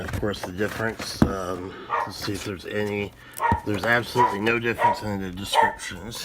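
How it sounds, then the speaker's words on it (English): A dog barks several times indoors, the barks partly masked by someone talking continuously close to the microphone. "Sorry about the dog. Apologies for the dog."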